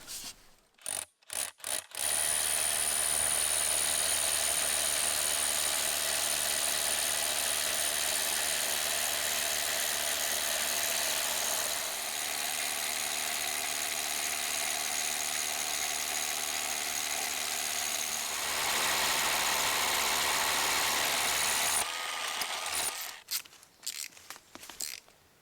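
A drill bores holes for a hydroelectric intake screen, running as one long, loud, steady mechanical whine for about twenty seconds, with short clattering stops at the start and end.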